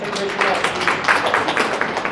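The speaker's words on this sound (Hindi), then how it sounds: "इस लड़के के लिए तालियां हो जाए भाई।" A classroom audience at a farming workshop claps for a boy who answered correctly, with brief uneven bursts of hand claps at moderate volume alongside some voices.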